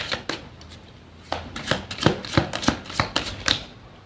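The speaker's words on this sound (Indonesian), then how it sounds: "Saya shuffle terlebih dahulu." A deck of tarot cards is shuffled by hand, crisp riffling bursts and sharp card snaps coming close and loud in an uneven rhythm, with a brief pause before a quicker run of flicks.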